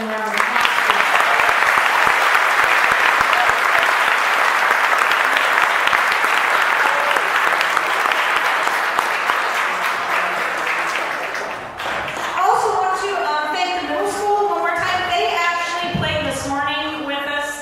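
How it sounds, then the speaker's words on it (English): An audience at a school's final band concert claps loudly and steadily for about twelve seconds. The applause then fades, and a voice and tonal sounds follow. "Ms. Diaz, Ms. Nichols, and Ms. Renteria, if you would give them a round of applause."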